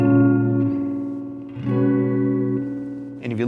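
Electric guitar run through an Earthquaker Devices Sea Machine chorus pedal, sustained chords shimmering with a wobbly modulated tone and subtle slapback echoes, loud and close, with a brief strum change near the end.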